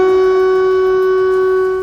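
Air raid siren wailing over Kyiv during a night drone attack, a steady sustained electronic tone held loud and unbroken throughout with no voices.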